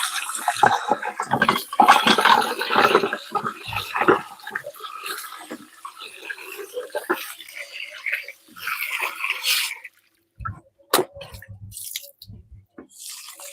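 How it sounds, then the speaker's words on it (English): Tap water running and splashing while strawberries are rinsed in a sink, an irregular close spatter with dripping, fading into quieter drips and brief clunks toward the end. "So I'm going to rinse this up."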